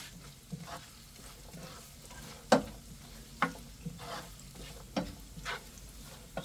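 Garlic fries quietly in a pan while a utensil stirs and scrapes it in a series of sharp, irregular strokes over a soft, steady sizzle.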